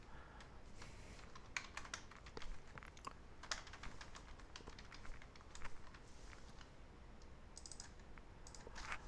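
Quiet, uneven typing on a computer keyboard, with bursts of key clicks and short pauses, close and alone without talk.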